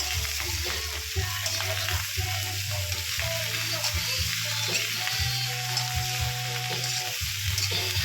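Shrimp fry and sizzle steadily in a hot pan while being stirred for squid adobo, a dense continuous crackle with a low hum underneath and no voices.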